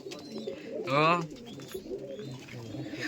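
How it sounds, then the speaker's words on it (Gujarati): Pigeons coo softly and continuously nearby, broken by one brief, louder warbling call midway. "અહીંયા આ બધા કબૂતરા છે"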